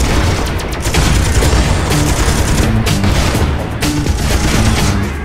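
A Gatling gun in the video game Miner Wars fires in a loud, continuous rapid roar of shots lasting the whole stretch, with no talk over it.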